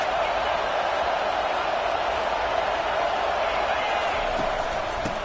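A big stadium crowd at a football game roars and jeers steadily at a team pinned deep in its own territory, a dense, loud wash of voices that holds without a break.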